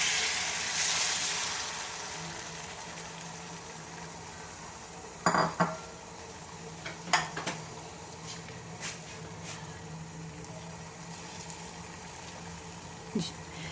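Beaten egg mixture is poured into an oiled pan and cooks with a soft hiss that fades into faint, quiet bubbling, broken by a few light clinks of a utensil against the pan.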